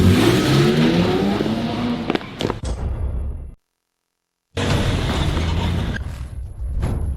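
A car engine drives and revs loudly, with mechanical creaks and clatter, then cuts to about a second of silence before the engine noise returns steady and close.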